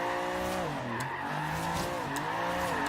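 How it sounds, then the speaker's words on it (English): A 1965 Alfa Romeo Giulia TZ2 in Forza Horizon 3 corners with repeated handbrake taps, its engine droning continuously while tires squeal and skid in short bursts, loud and close, with no talk. "I'm just tapping the handbrake repeatedly to avoid understeer through that corner."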